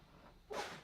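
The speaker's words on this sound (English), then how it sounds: "Sorry for sneezing." One short, breathy sneeze, close by, following a faint intake of breath and rising out of a quiet background.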